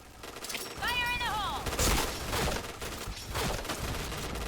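Bursts of gunfire in a shooting video game, sharp repeated shots and rattling fusillades scattered across the moment, mixed with game sounds while someone talks excitedly over them.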